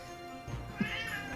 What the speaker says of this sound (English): He's just sitting there staring at me, meowing.